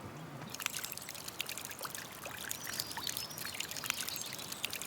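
Water runs steadily down cascades in a garden in Limousin, France, a continuous close rushing and splashing with no voices.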